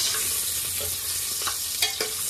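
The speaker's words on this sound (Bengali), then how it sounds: "আগে আলুটাকে ভেজে নেবো।" Raw potatoes frying in a pot make a loud, dense sizzle. A few short scraping stirs sound near the end.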